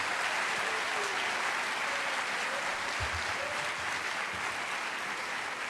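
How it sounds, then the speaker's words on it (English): Sustained audience applause fills an employee service day gathering, a dense steady wash of many hands clapping at even loudness from start to finish, with a brief low thump near the middle. "So a round of applause for Donna and everybody who's been recognized"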